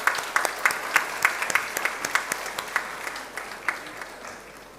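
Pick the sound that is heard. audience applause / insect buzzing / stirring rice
audience applause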